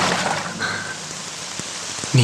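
Rain falls steadily, a soft continuous hiss of drops on a surface with a few sharper individual drips near the end.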